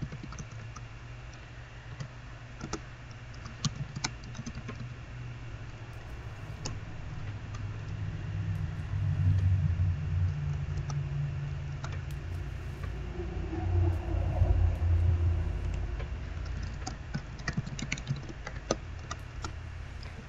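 Steady computer keyboard typing, scattered quick key clicks at irregular pace over a low background hum, fairly quiet and continuing for about twenty seconds with no talking.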